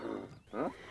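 A cow on a farm near Achtmaal moos twice in quick succession, a low drawn-out bellow followed by a rising, wavering second call, close and clear with no talk.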